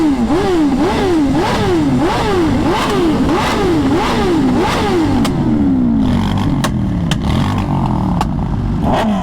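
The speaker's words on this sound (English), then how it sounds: "This guy's absolute straight pipe. He doesn't even have a can on his bike." A straight-piped sport motorcycle at a car show revs hard in a quick rising and falling series of loud, raw blips, then settles into rough, popping idle with sharp crackles, close and dominant with no talk.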